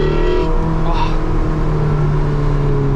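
A Porsche 918 Spyder engine roars loudly from inside the car, a dense, sustained growl with a steady drone and slight rises in pitch, close and powerful.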